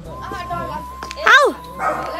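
A dog at a rural Nepali village home gives one sharp, loud bark partway through, with voices murmuring and talking around it.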